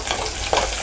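Small onions and garlic sautéing in a pan over low heat for a Tamil pepper curry, giving a brief steady sizzle with a short louder crackle near the middle.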